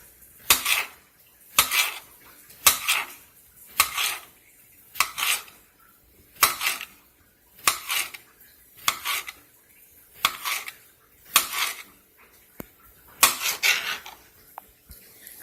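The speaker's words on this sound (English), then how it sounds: "Slicing up the cucumber." A knife slices through cucumber on a cutting board at home, each cut a crisp knock repeating roughly once a second in a steady, close rhythm, with no talking.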